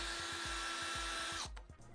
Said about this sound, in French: Et c'est parti pour le perçage.